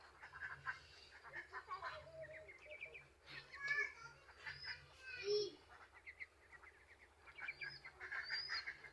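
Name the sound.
Chinese duck (goose) chicks calling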